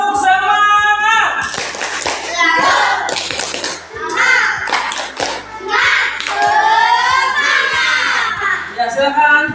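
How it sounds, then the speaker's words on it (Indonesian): A classroom of children claps a rhythmic spirit clap in sharp, loud, evenly spaced beats, chanting together between the claps. "kita kasih dulu tepuk semangat ya"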